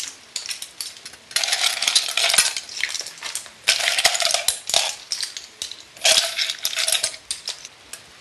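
Shellfish clatter and clink in bursts as they are spread over a finished paella in the pan, close and crisp, with quiet pauses between handfuls and no talk.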